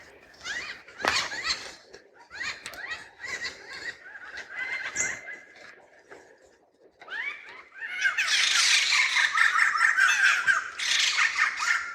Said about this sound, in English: a raucous band of white-crested laughing thrushes